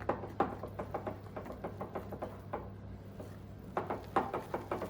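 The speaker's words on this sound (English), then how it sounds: "if you can hear munching in the background, is this little dude having his dinner" A small pet munches its dinner nearby in a steady rhythm of soft, quick crunchy chews, faint against a low background hum.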